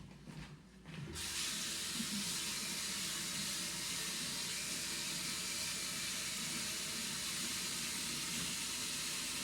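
Water runs steadily from a kitchen tap to rinse off soap, starting after a brief quiet moment and then holding as a constant, fairly quiet hissing stream to the end.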